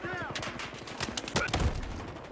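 Gunfire in the video game Battlefield Hardline during a multiplayer match: a dense, loud burst of rapid shots and impacts over about two seconds, with overlapping cracks and booms.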